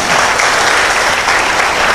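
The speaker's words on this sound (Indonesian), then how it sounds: "Tepuk tangan dong buat Indonesia." Steady applause from an audience cheering for Indonesia at a public talk, dense, continuous clapping filling the whole moment at fairly loud level with no pauses.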